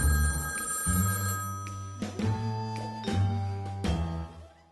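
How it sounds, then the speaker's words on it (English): A telephone bell rings in an old radio detective drama, with repeated loud trilling bursts separated by short pauses. No voices are heard. "I was greeted by a sound very much like that of a phone ringing."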